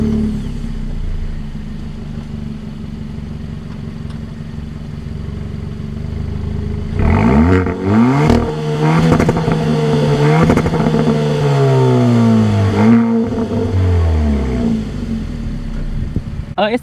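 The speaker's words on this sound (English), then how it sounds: "And this also has a sport tuned exhaust." A 2022 Kia Forte GT engine idles low, then revs up hard several times through its sport tuned exhaust, rising and falling in throaty bursts before settling, loud and close.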